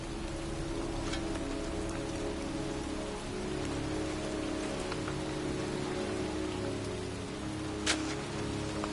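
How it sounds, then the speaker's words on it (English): Heavy pouring rain falls steadily over a cemetery in the video game Heavy Rain, a dense, continuous hiss with scattered nearby drips and one brief louder tap, with no voices. "standing in a cemetery in pouring rain"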